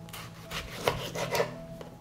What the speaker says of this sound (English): I will clean the tomato from the center and cut it into slices.